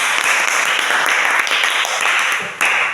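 Dense applause from a classroom group, many hands clapping together in a loud, steady patter that continues throughout.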